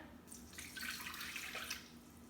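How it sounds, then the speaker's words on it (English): Water poured into a drinking glass while making a vegan ranch dressing, a steady close splashing trickle lasting about two seconds with no talking. "So in here, we're going to put some water."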